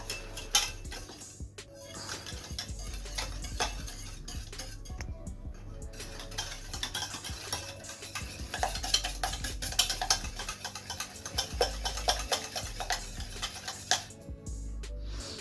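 Eggs are stirred with sugar in a saucepan, making a continuous light clink and scrape of utensil against the pan, soft and close, with faint background hum.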